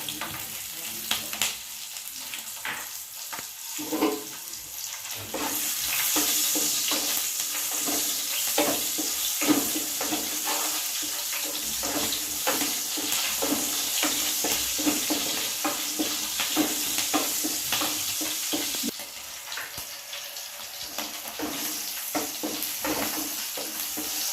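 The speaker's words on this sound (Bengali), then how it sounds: "এবার আমি একই তেলের মধ্যে দিয়ে দেব সামান্য পরিমাণ জিরা ফোড়নের জন্য আর কয়েকটা কাঁচা লঙ্কা।" Cumin seeds and a few green chillies sizzle and crackle in hot oil in a pan, a steady close frying hiss that grows louder partway through, with occasional stirring and no talk.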